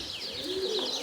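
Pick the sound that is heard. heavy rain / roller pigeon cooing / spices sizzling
roller pigeon cooing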